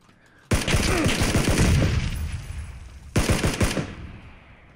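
An opponent sprays rapid automatic fire in the PUBG battle royale game, with two loud, close bursts of quick shots, each trailing off into echo, in a solo-versus-squad fight.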